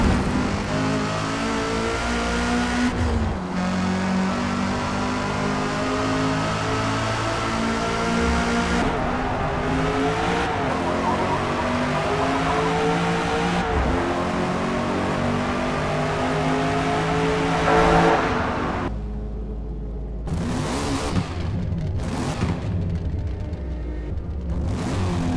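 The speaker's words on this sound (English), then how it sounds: "I'll leave a couple of clips on screen right now of what some of the cars sound like" Race car engines in the video game Forza Motorsport rev and roar continuously through gear changes, loud and sustained, with brief drops in pitch and a sharp cut to quieter engine bursts near the end; tire squeal is not clearly picked out.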